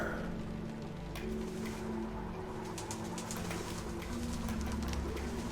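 Birds coo softly inside a bird cage in the video game Antichamber, a faint, steady cooing under a continuous low hum and ambient game noise.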